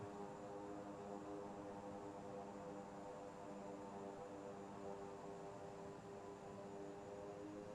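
Airliner engine roaring in reverse thrust in the Microsoft Flight Simulator game, a steady, dense, unbroken drone that holds constant throughout with no talk over it.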